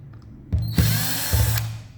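A power screwdriver whirs in several short bursts, close and loud, while backing screws out of the casing of a Bosch bottom-loading water dispenser.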